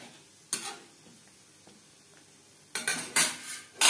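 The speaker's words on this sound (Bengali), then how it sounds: "বেশ ভালো করে মিক্সড করে দেব।" Paneer muri ghonto is mixed with ghee and spices in a pan: a single spoon clank, a quiet stretch, then several loud close scrapes and clatters against the metal, with no talking.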